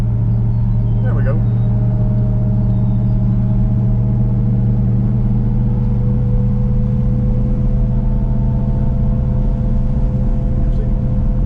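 Interior of a Plymouth Fury III with a 440 engine cruising on the road above 50 mph, a low steady drone and rumble throughout, with faint wind noise on top.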